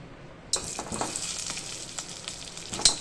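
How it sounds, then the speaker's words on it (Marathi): Potatoes dropped into hot oil for a green masala potato curry, with a sudden sizzle starting and continuing as a steady frying crackle, with a few stirring clinks near and moderately loud. "आता आपण तेलामध्ये टाकणार आहे बटाटे"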